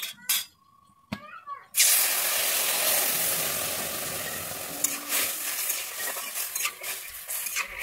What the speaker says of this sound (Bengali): এরপরে আমি দিয়ে দিচ্ছি জল